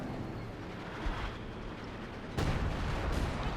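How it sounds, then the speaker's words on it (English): An artillery barrage in the strategy game Company of Heroes 2, heard as a dense low rumble with two heavy impacts landing moments apart, the second louder and sustained, with no voices. "So a lot of artillery there called in by Kolter as well."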